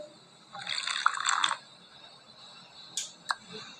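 In the Avatar World game, a brief watery gulping or pouring effect plays for about a second, followed by a couple of short clicks, quiet and close with no speech.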